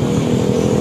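Yamaha MX King motorcycle with a modified, rebuilt exhaust at a welding workshop, idling and revving in a steady, loud, close rumble with no talk.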